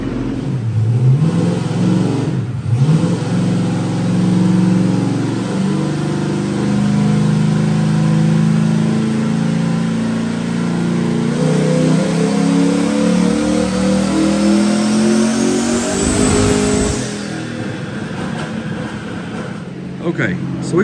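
A truck fitted with a BTR cam revs hard on a dyno during a pull, the engine tone climbing steadily for many seconds before cutting off, loud and close with a voice briefly over it.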